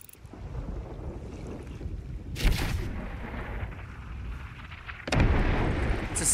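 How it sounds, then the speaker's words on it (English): Skeletons firing cannons at a ship in Sea of Thieves: two heavy booming blasts a few seconds apart over constant wind and rushing water around the vessel. "skeleton shooting at us"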